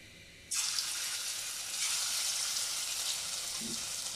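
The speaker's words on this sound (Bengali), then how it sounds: "তেলগুলো গরম হয়ে গেছে, তো আমি মাংসগুলো দিয়ে দিচ্ছি। তো ফ্রাই হয়ে যাচ্ছে মাংসগুলো" Chicken pieces dropped into hot soybean oil for restaurant-style chili chicken, a sudden loud hiss that settles into a steady, dense sizzle, with no voices.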